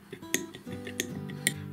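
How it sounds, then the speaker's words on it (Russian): A spoon stirs a separated egg yolk in a bowl while making fishing bait dough, giving three sharp, close metallic clinks against the bowl over a low background hum. "Теперь это все дело размешиваем."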